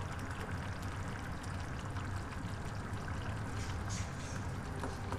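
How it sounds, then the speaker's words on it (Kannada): Bitter gourd curry boiling in a pot with jaggery, a steady dense bubbling hiss throughout, close and even, no talk. "ಇದು ಎಷ್ಟು ಚೆನ್ನಾಗಿ ಕುದೀತಾ ಇದೆ ನೋಡಿ"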